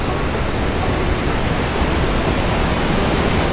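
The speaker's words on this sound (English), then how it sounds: "the otherwise large and mellow Rimouski River funnels down into a 10-meter waterfall drop" Steady roar of a 10-meter waterfall where the Rimouski River funnels through Hellgates Canyon, a dense broadband rush that stays constant and loud throughout with no voices.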